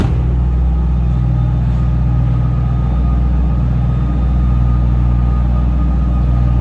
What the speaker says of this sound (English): Nice sounding exhaust, really sounds good under throttle.